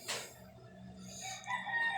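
A rooster crows in a short burst at the start, followed by softer fowl sounds and background chirps around a cockfighting training pen.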